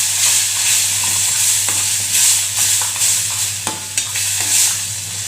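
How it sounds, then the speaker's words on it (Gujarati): A spoon stirs through a thick garlic chutney as about two spoons of buttermilk are mixed in, giving soft scraping and wet slapping strokes at an uneven rhythm, close and steady, with no voices. "અહીંયા આપણે 2 ચમચી જેટલી છાશ ઉમેરશું, એને બરાબર મિક્સ કરી લઈશું"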